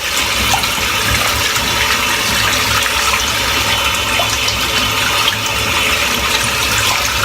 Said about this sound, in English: So I'm just giving it a good rinse out.